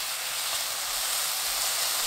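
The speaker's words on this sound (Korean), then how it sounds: "팬이 달궈지면 소고기 넣고 센 불로 볶습니다." Beef sizzles on high heat in a hot pan for a Korean rice-cake stir-fry, a steady, loud, unbroken hiss filling the whole stretch with no talking.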